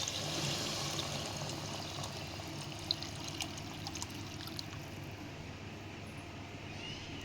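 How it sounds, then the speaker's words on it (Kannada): Water pours into a pot of rice for tomato bath, four glasses for two of rice, a steady, fairly faint gushing trickle that continues evenly without any talking. "ಇವಾಗ ಇದಕ್ಕೆ ಎರಡು ಲೋಟ ಅಕ್ಕಿಗೆ ನಾಲ್ಕು ಲೋಟ ನೀರು ಹಾಕ್ಕೊತಿದ್ದೀರಿ ಗೈಸ್"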